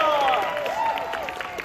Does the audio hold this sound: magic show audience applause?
yes